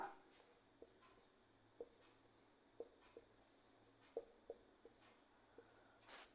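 Chalk or marker strokes on a classroom board come as sparse, faint taps and short scrapes spread irregularly through a quiet room during a geography lesson, with one louder scrape at the end.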